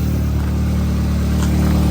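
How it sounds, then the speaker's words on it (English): An Audi or VW engine with a CTS MPI kit drones loudly and steadily close by, with a slight rise in pitch suggesting a rev. "Just gave the car a couple of revs too"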